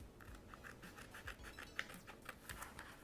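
Scissors snipping through glitter iron-on vinyl, a quiet close series of rhythmic scratchy cuts with no talking.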